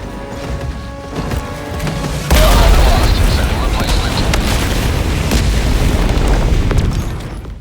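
HE barrage explosions in a video game, fired against a Charger enemy, hit with a sudden heavy boom and then roll on as a dense, continuous rumble of overlapping blasts.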